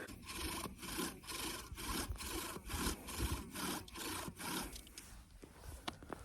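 A wooden bow drill spins against a wooden board to burn in a hole, making a rhythmic rasping, back-and-forth scraping with regular strokes about every half second, close and steady, then slowing near the end.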